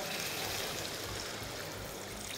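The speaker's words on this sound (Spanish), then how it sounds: "Pues vamos a poner agüita" Water poured into a casserole of browned pork loin cooking with peppers, a steady close rush of liquid that holds evenly throughout the short moment.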